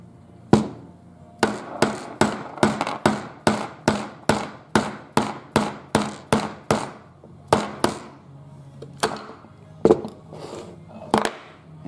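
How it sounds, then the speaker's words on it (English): Rotary valve assembly tapped through with an 11/16 socket while resting on wooden blocks: about eighteen sharp, ringing metallic hammer taps in a steady rhythm, close and loud, then a few scattered strikes. "And tap the assembly through."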